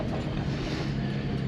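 A 2006 Jeep TJ Rubicon chugs slowly in first gear along a rough off-road track near a reservoir lake. A steady, low engine drone and mechanical rumble run briefly and evenly, with no talking.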